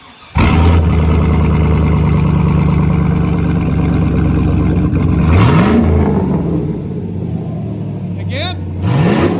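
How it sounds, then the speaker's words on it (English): A cammed Chevrolet Silverado fitted with a Flowmaster 15430S muffler runs loud and close, holding a lumpy rumbling idle before two sharp revs climb and fall, the second near the end; voices speak briefly over the engine. "Now we're doing the Flowmaster 15430S. They're the smaller version of the Outlaws"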